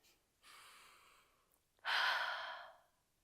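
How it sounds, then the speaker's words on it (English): A person takes one slow, deep breath: a soft inhale, then a louder, longer exhale, close and alone in a quiet room. "And so, literally take a deep breath here."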